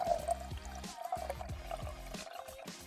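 White vinegar pours into a pot of sriracha ingredients in a steady, close liquid stream with gurgling pulses, rising slightly in pitch as the pot fills.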